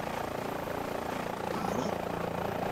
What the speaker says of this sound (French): Voilà, l'hélicoptère va partir.